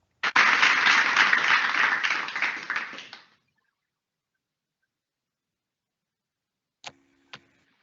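Applause for the winners at a school co-curricular finale, a loud dense burst from an audience for about three seconds that cuts off, followed by two brief faint clicks.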